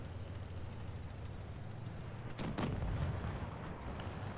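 Tank cannon fire in the mobile game World of Tanks Blitz, two sharp booming shots in quick succession over a constant low engine rumble and battlefield hum.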